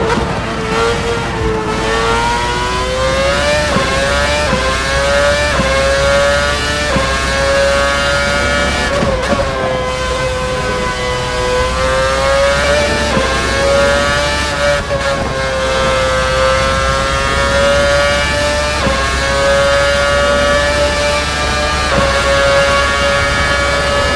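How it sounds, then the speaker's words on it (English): An F1 race car engine in Assetto Corsa screams at high revs throughout, rising and dipping with gear shifts, loud and close with no talking. "take a listen to how realistic this car sounds"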